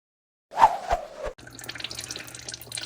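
Coolant drips from a loosened hose clamp on a BMW during a coolant flush: a couple of close, distinct drips followed by a faint, soft trickle.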